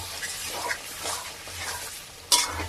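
Fried potatoes are stirred into sizzling spiced masala in a pot for mutton curry, giving a close, steady frying hiss with scraping stirs and a sharp utensil clink near the end.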